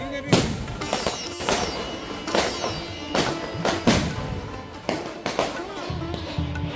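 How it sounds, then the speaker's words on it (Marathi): Fireworks burst at a municipal Vasai victory day celebration, a series of loud booming thuds and crackling bursts every second or so, echoing in the open air with crowd noise and anthem music underneath. "फटाक्यांची आतषबाजी चालू आहे."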